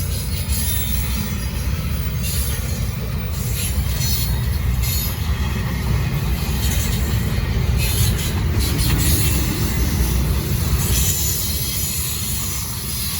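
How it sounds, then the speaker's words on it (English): A Norfolk Southern freight train on the Charlotte District rolls past while slowing down, with a heavy, continuous rumble of wheels and cars, intermittent high wheel squeals and a steady clatter, loud and close throughout. "This train slowed all the way down."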